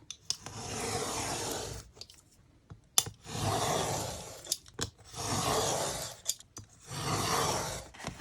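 Scissors cut through stamped paper master boards in four long passes, each a close, crisp rustling snip-crunch lasting about two seconds, separated by short quiet gaps with small clicks.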